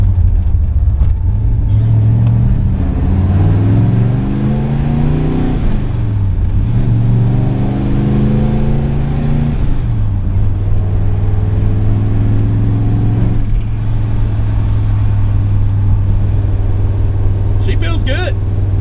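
A car engine hums and revs steadily from inside the cabin while driving straight down a road, with the pitch rising and falling as it accelerates; a person talks over the engine throughout.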